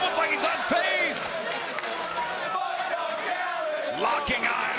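A wrestling arena crowd at a Ring of Honor world title match roars and chants with loud shouts and whistles, the noise steady and dense under a commentator's voice.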